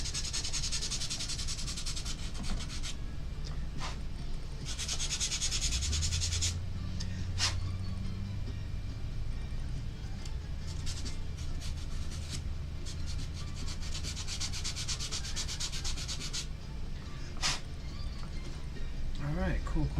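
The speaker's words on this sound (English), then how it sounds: "For this bit, I'm gonna need my sanding paper." Sandpaper rubs back and forth on a small craft diorama piece, soft scratchy strokes in irregular bursts with pauses between, close and fairly quiet, with a voice talking in the background at times.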